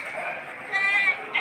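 Fat sheep in a livestock market at Padre Garcia, Batangas: short, wavering bleats close by, rising near the end, with a faint voice mixed in.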